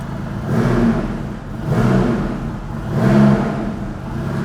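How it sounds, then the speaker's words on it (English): A cold Porsche 993 hot rod engine on a cold start gets three short throttle blips to around 1500 RPM, each a rising, swelling growl that settles back to a steady idle, heard close with no talking. "the throttle response is brilliant as well. I'll give it a little blip so you can hear it."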